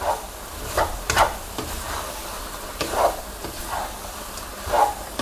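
Celery stir-fried in a pan gives a soft background sizzle with a few distinct scraping stirs of a spatula at irregular intervals, close and moderately loud, no voices.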